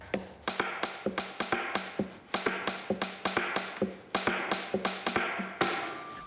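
Rapid rhythmic tapping on empty NLAW and Javelin launcher tubes forms a steady drum-like pattern, crisp and close, with varied pitches between hits.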